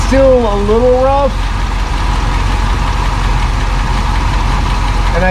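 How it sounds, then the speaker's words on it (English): A 1966 Thunderbird engine idles steadily and loud up close, a low continuous rumble with a slightly rough edge; a voice speaks briefly over it at the start. "And I hear a lifter tick just a touch."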